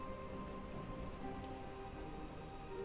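Steady, even rainfall in the colony-building video game Whiskerwood, a constant hiss of drops pattering on surfaces at moderate volume with no voices.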